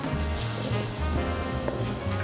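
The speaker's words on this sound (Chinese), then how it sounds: "好，那我们现在得到一片烧肉片，然后去烤，来烤一下。" A slice of meat sizzles steadily as it grills over high-grade binchotan charcoal, with a continuous close crackle and hiss throughout.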